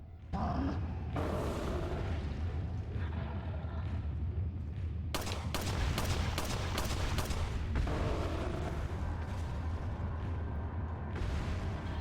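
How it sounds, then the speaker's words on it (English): Pistol shots fired in the video game Resident Evil 4, a rapid cluster of sharp, loud cracks in the middle of the stretch over a steady low rumble, with one more burst near the end. "Good old pistol."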